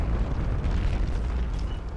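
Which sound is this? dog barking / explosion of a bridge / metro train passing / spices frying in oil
explosion of a bridge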